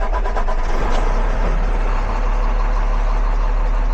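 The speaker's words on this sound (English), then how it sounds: "Now it tells us to crank the engine." A Cummins ISL9 diesel engine runs loud and close with a steady, dense rumble after cranking, holding an even idle throughout with no talk.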